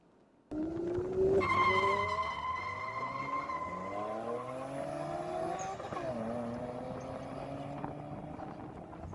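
A car driving fast plays back from a recording, its engine note rising through gear changes with long sweeping harmonic whines, loud and sustained with no talk over it.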